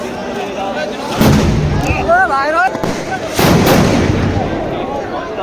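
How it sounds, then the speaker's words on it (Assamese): Firecrackers burst outdoors near a school gate, with two loud blasts a couple of seconds apart. People talk over the bangs and the noisy background. "এই গাইজ কি বোমা মাৰছি একদম ভয়ানক"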